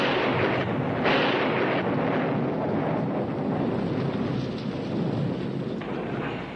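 Thunder during a heavy storm rumbles as a continuous, loud, broadband roar with no clear separate claps, steady for the whole stretch and swelling slightly at times, with no one speaking.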